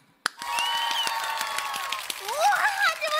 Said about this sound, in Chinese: 我找人帮你们拍手